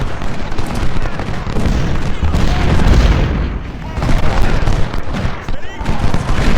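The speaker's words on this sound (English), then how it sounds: "Gibson's attacking that Yankee artillery, trying to destroy it." Booms and gunfire from a Battle of Shiloh video game, continuous and dense across the whole span, with Civil War artillery and rifle fire rumbling loudly under a voice describing the action.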